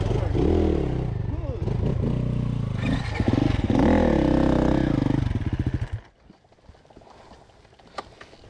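A Husqvarna 250 or 350 enduro motorcycle runs on a hilly helipad trail, its engine loud and close with rising and falling revs, then dropping away to near quiet near the end. A rider talks over it.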